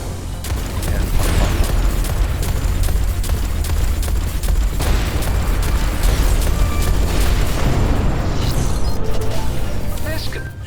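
A flak cannon in the space game Everspace 2 fires over and over, its bursts popping in a steady, dense stream above a loud low rumble, with someone talking through it.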